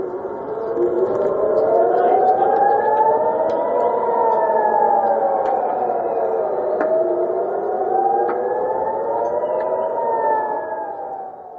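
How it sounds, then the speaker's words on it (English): Air raid sirens in Jerusalem wail loud and continuous, a civil defense tone that slowly rises and falls in long sweeping cycles with no other sounds over it. "following air raid sirens in Jerusalem"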